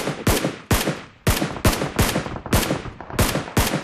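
Rapid gunfire in PUBG Mobile, about ten sharp loud shots in an uneven burst over a few seconds, close and alone without talk.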